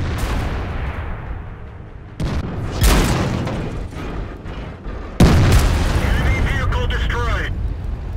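Tank set ablaze and destroyed in World of Tanks: heavy booming bursts with sudden loud onsets near 2, 3 and 5 seconds, followed by sustained roaring fire and crackle, under a speaking voice.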